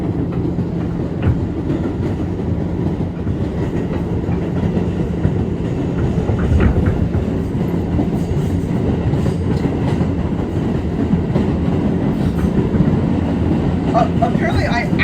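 NYC subway express train rolling on rails, a steady loud rumble with rail clatter and occasional squeals throughout, with people talking faintly in the car.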